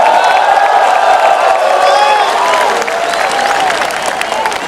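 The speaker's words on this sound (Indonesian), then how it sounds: "Tepuk tangannya dahsyat, penuh rasa cinta." A large political rally crowd claps and cheers for an arriving party leader, dense continuous applause with whoops spread throughout, loud and sustained.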